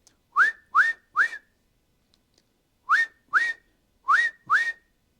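Dogman's whistle signals for a crane's boom up and down: short, sharp upward-sliding blasts, first three in a quick row, then a pause and four more in two pairs, loud and close with no talking.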